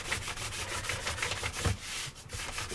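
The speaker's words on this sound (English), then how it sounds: "So now it's time to give these a bit of a buff." Dyed leather is buffed to a shine with quick, repeated rubbing strokes that make a close, moderately loud brushing texture with no voices.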